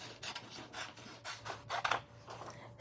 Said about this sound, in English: I'm just going to fussy cut these